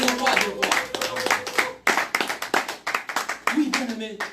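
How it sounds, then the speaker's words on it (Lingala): A church congregation claps hands together in a steady rhythmic beat, loud and close, with voices talking and calling out over the clapping. "Est-ce qu'on peut acclamer pour Jésus?"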